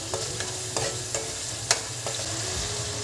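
Bocha fish pieces fry in a pan with ginger and garlic for a Nellore fish curry, giving a steady close sizzle broken by several sharp clicks and scrapes of stirring.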